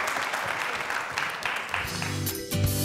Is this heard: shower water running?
no